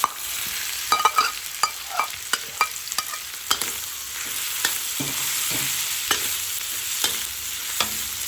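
Kway teow noodles are stir-fried for char kway teow: a loud, steady sizzle runs throughout, broken by repeated sharp clinks and scrapes of a spatula against the pan.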